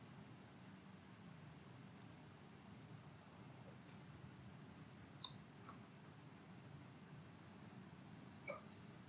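A computer mouse clicks a few times, sparse and quiet, with single and double clicks scattered over a faint background hiss and no talking.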